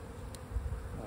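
Bees from a wild swarm colony in an open Layens hive give a faint, steady, low buzzing drone for about a second, with no voices.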